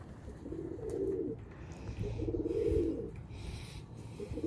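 Chinese pigeons coo in low, soft, repeated rolling phrases that swell and fade over a steady background murmur, fairly close but not loud.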